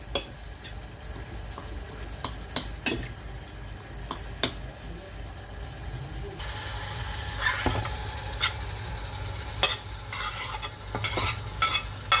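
Food frying in a pan and stirred often, a continuous sizzle with frequent sharp clicks and scrapes of the utensil, growing a little louder and denser partway through, heard close with no voices.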